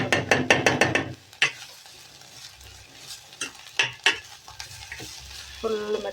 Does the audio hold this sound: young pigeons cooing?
no